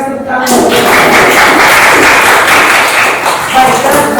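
A classroom full of students claps together after a teacher's history lesson, a dense, loud burst of applause that fills the room and then tapers off.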